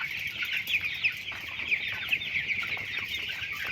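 Chickens cluck steadily at a poultry farm in Mymensingh, Bangladesh, with many birds chattering and clucking close by in a continuous, busy flock sound and no talking.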